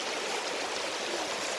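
River stream at Mesolong River in Talaingod, Davao del Norte, rushing steadily with a dense, continuous broadband water roar, close and loud throughout.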